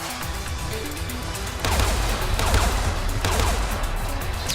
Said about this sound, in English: Should hop in that turret, Shepard.